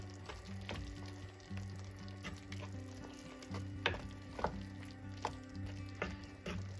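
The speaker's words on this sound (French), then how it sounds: "On mélange." A spoon stirs a kefta and egg tajine sauce with fresh coriander in a pot, giving a soft continuous sizzle and a few light scraping taps, faint and under quiet background music.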